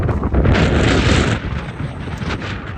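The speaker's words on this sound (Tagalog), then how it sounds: "It's windy." Strong wind buffets the microphone at Calaway Park in Calgary on a hot day, a loud, continuous roar that eases slightly toward the end.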